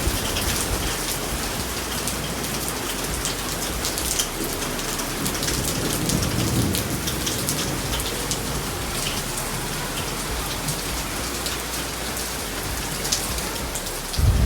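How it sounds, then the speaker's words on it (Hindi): Heavy monsoon rain pours down steadily as a dense, even hiss of drops hitting surfaces, with a faint low rumble partway through and no talk. "बारिश इतनी ज़्यादा तेज़ है कि चारों तरफ पानी पानी भरा हुआ है"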